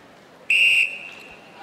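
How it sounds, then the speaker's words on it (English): An umpire's whistle at a Netball World Cup 2019 match between Jamaica and Scotland, a single sharp blast of about a third of a second over crowd murmur in an indoor arena. "Penalty outside on my whistle."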